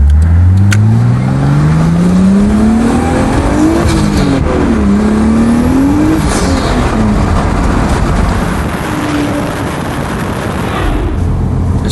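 A tuned turbocharged car making about 400 horsepower to the wheels accelerates hard through several gears, engine pitch climbing with each shift, loud and close from start to finish with no talking.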